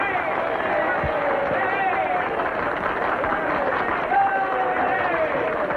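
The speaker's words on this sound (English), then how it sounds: "for your kind applause" A crowd gives the governor a lively welcome after his introduction, a dense, continuous wash of clapping and cheering voices filling the whole stretch at steady loudness.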